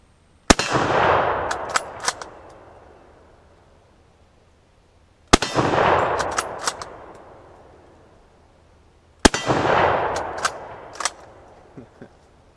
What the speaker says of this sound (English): So let's go ahead and fire some rounds onto this.